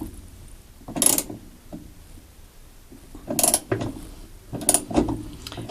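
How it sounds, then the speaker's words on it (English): Ratcheting wrench clicks while a bolt is tightened on a Whirlpool washer agitator during repair, with short bursts of metallic ratchet rattles separated by quiet pauses, close and moderately loud. "I've got to hold on to this bottom piece while I finish tightening that bolt."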